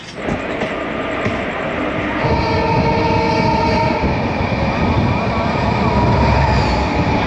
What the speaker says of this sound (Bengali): অবশেষে ট্রেন ছাড়লো